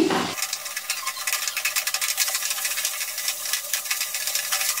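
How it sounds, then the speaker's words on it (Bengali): Nimki, small fried dough pieces, fry in oil over a low flame, giving a dense, even crackling sizzle that starts abruptly and carries on close and steady to the end. "গ্যাসের ফ্লেমটা একদম লোতে দিয়ে নিমকিগুলো ভেজে নিচ্ছি।"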